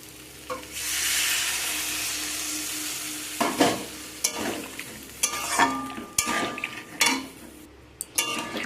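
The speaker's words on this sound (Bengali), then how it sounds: "এখানে সরষের মশলা দিয়েছি যদিও সরষেকে বেশি ভাজতে লাগে না একটুখানি নাড়িয়ে হয়ে যায়" Mustard spice paste being stirred and fried in a pan for a fish curry with potatoes and tomatoes, a hissing sizzle followed by repeated loud clanks and scrapes of a metal spoon against the pan.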